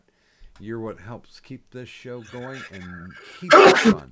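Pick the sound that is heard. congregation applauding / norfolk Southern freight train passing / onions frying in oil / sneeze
sneeze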